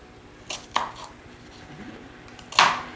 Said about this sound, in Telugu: సన్నకు కొయ్యవయ్యా, ఉల్లిపాయలు కొయ్యటం రాదు.